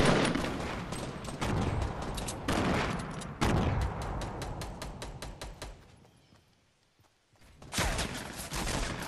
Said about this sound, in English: oh, I'm being shot in the back.